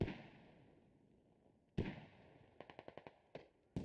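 Mortar rounds hit a rooftop in the tactical shooter Squad: a loud blast, then a sharp second impact followed by a rapid string of five or six cracking detonations and a couple of final bangs, with no talk.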